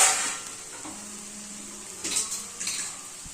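Chickpeas being stirred into an onion tempering in a pan sizzle steadily, with a few close scraping, clattering stirs of the spoon against the pan.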